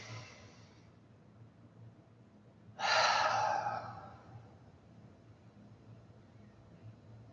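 A single deep breath drawn in through the nose during a yoga session is a close, breathy rush lasting about a second, set in a quiet room with a low background hum.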